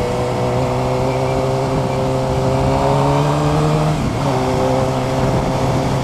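A modified CG400 motorcycle fitted with a Falcon engine revs loud and close, its tone climbing steadily before dipping sharply and rising again.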